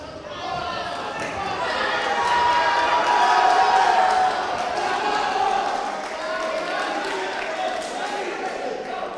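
A crowd at a boxing match in Sarroch keeps up sustained applause and cheering that swells and holds across the whole stretch, a dense, moderately loud wash of clapping and voices.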